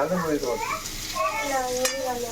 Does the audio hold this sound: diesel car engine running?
no